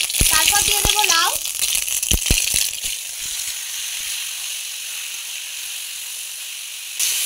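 A voice speaks briefly before bottle gourd hits hot oil spiced with bay leaves, panch phoron and ginger paste, followed by a steady, even hiss of sizzling that holds for several seconds.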